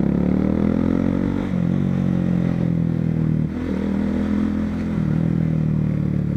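A Honda CB Twister motorcycle engine runs steadily and loud up close, its low even drone dipping slightly in pitch twice as the revs ease off.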